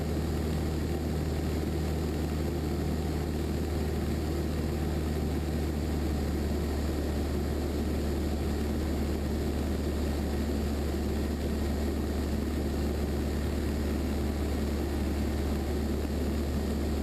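Propeller-driven light airplane cruising near Carlsbad on approach to the airport, heard from inside the cabin as a steady, continuous engine and prop drone with no breaks.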